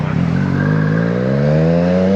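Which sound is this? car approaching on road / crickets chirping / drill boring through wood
car approaching on road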